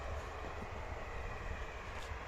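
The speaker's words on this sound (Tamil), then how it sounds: "ரயில் போது பாருங்கள்" A train passing along the railway line near Udumalaipettai, on the Coimbatore–Dindigul route, heard as a continuous loud, dense rumble and rush of wheels on track with no voices.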